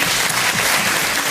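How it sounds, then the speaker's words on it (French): A short, loud burst of clapping from the studio audience of the French TV game show Motus, a dense wash of hands lasting just over a second. "Applaudissons Thierry Beccaro"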